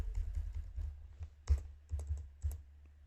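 Code being typed on a computer keyboard, a close, quiet burst of uneven key clicks with a few heavier thumps, with no talking.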